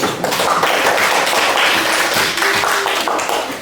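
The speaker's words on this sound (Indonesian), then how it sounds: "Tepuk tangan untuk kelompok 1." Classroom applause for a student group after a presentation, a dense burst of close hand claps from many students that fills the whole stretch at steady loudness.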